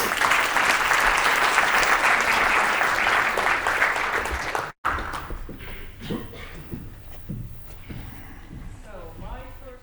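An audience at a food waste conference applauds to welcome a speaker, a dense, loud wash of clapping that fills the first half and then cuts off abruptly, followed by a voice beginning to speak.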